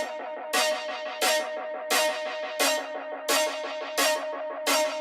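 A dry synth preset patch with no arpeggiator, playing in a spare electronic track: sustained tones with seven evenly spaced, bright note attacks about every 0.7 seconds, close and clear with no voice.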